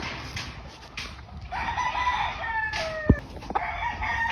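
A young white cross-bred rooster, a stag, crows in a long rising and falling call, with further clucks and calls of other fowl around it; fairly near and clear over low outdoor background noise.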